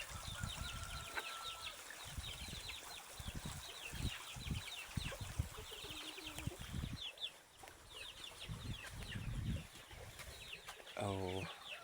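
Chickens cluck and call close by as they are fed on a farm, with scattered squawks, wing flaps and a rising cackle near the end, all under a continuous high chorus of insects or birds.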